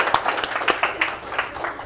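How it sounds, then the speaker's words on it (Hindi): An audience claps to welcome a guest onstage at a gathering: a brief burst of scattered, moderately loud hand claps. "सब लोग तालियों से सर का स्वागत करते हैं"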